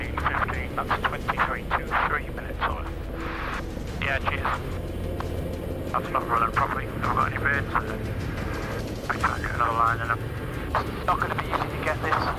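Loud, constant low rumble and rotor vibration fill the cabin of an air ambulance helicopter during a rescue flight, with people talking over it throughout.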